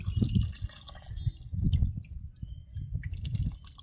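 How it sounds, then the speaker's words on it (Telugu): Tamarind broth being poured into a pot for pappu charu in short splashing bursts, with soft drips and low gurgles close by, and no talking. "ఇది కూడా ఇంక పులుసు కూడా పోసేసుకుంటున్నాను"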